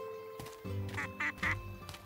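Ducks quacking at close range in an outdoor setting, a few short quacks in quick succession, with background noise and no talking.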